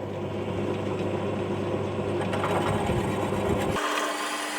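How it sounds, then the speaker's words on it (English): A pedestal drill bores a straight hole in the end of a workpiece during a clock mainspring winder build, giving a steady close motor hum with a grinding cutting texture that stops abruptly near the end; no one talks. "it gives me access for the pedestal drill so I can get a nice straight hole in the end of it"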